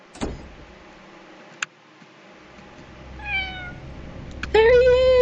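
A cat meows in a video game, a short rising cry followed later by a louder, longer meow near the end, with a faint motor-like hum and clicks in between.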